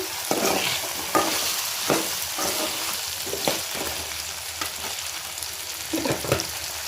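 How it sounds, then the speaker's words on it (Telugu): Ginger and garlic frying in oil in a pan, giving a steady, close sizzle broken by intermittent stirring scrapes and clinks of a utensil, with no one talking. "ఒక 2 మినిట్స్ పచ్చివాసన అయ్యే వరకు అల్లం వెల్లిపాయ వేసుకోవాలి"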